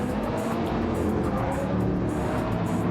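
Racing cars, among them a Toyota Supra, roar around the Monza circuit in the Flatout racing game, a dense, loud, unbroken engine drone with faint tire noise and no pauses.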